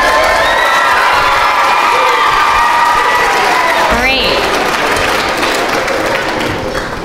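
A school district concert audience applauds and cheers after a high school jazz ensemble's set, with a loud, sustained wash of clapping, whoops and crowd voices that eases slightly toward the end.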